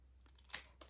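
Scissors snip through card stock in two quick, close, crisp cuts in an otherwise quiet room.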